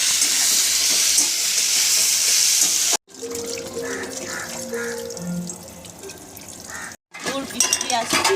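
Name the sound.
potatoes frying in pan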